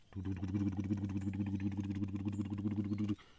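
A tractor engine chugs in a muddy rice field during ploughing, a steady, close, throbbing drone with rhythmic clatter that runs for about three seconds, then cuts off abruptly.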